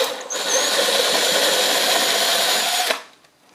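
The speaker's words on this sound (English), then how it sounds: "I guess we have to make some holes in the case for those wires to come through." A power drill bores holes into a plastic circuit case for an LED tail light conversion on a 1976 Mazda RX-5 Cosmo. It runs loud and steady for about three seconds, then winds down and stops.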